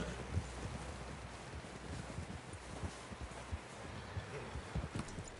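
In Red Dead Redemption 2, a horse's hooves clip-clop softly at a slow, uneven walk, faint and close, under a light wind hiss with no talk.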